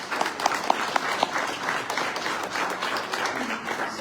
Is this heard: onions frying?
no